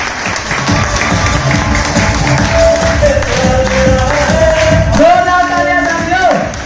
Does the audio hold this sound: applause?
yes